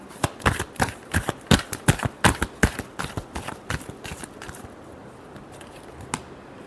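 Tarot cards shuffled by hand in a rapid run of crisp riffling slaps that fade out midway, leaving near silence and one last soft tap.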